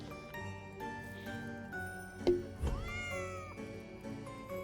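A video game cat meows and yowls several times, with a sharp, rising angry cry in the middle, set against soft background music.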